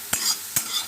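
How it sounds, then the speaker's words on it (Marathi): Moth beans (matki) dry-roasting in a pan give two quick scraping stirs against the metal with a soft crackle in between, close and brief, with no talk. "आता मी प्रथम मटकी भाजून घेणार आहे"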